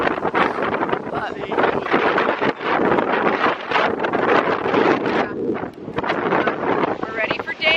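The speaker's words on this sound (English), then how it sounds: "even though it's super windy and kind of cold" Strong, gusty wind on a beach on Hilton Head Island buffets the microphone with a loud, steady roar that rises and falls, while people talk over it.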